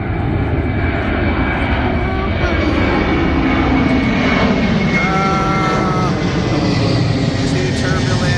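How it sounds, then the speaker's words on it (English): A Delta airliner taking off in the distance near an airport, its steady engine roar filling the scene while people talk nearby. "Oh, one plane is taking off over there."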